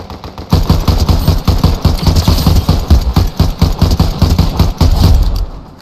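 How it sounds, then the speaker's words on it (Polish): Rapid bursts of automatic gunfire rattle almost continuously through an ongoing battle in a video game. The shots come in loud, tightly packed volleys with no talking. "Jeszcze słychać walkę"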